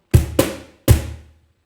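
Three sharp slaps on a cajon in a samba pattern, the first two close together and the third after a short gap, each a deep boomy hit with a bright snap that rings briefly.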